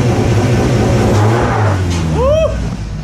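Honda H22 engine swapped into an Acura EL, revving hard and close with a rising, snarling pitch, then settling back; a brief squeal and voices cut in near the end.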